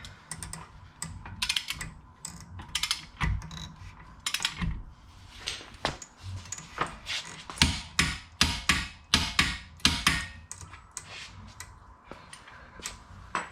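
Torque wrench tightening the driver-side axle nut on a 2015 Chevy Volt to 185, sharp metallic clicks and taps, loose at first and then a denser rhythmic burst, close by in a garage.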